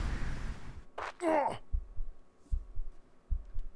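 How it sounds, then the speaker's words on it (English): Heartbeat sound effect from damage and health mechanics in an Unreal Engine 5 RPG game, a slow run of low thuds that grows more intense, with a short breathy gasp early on and no talking. "I thought about making this effect breathing instead of heartbeats, but I find the heartbeat sound a little bit less annoying"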